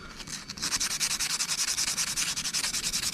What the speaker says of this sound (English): Kind of spinning them as I'm running them back and forth. That way we kind of sanding it from all directions.